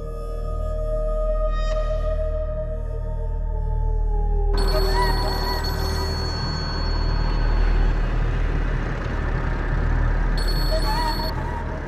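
A phone rings after a call is redialed: steady ringing tones, then traffic-like background noise with a high tone persisting, moderately loud.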